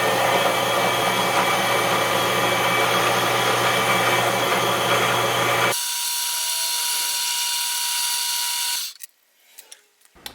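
A power drill bores into the stem of a steel chest lock key, a loud steady whine that drops to a thinner high tone partway through, then cuts off into near silence with a few small clicks.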